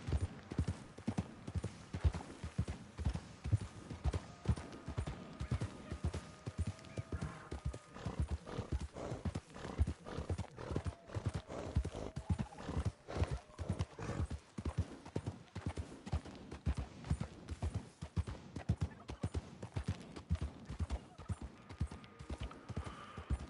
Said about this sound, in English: There's something to me that's like therapeutic just to hear those horse hooves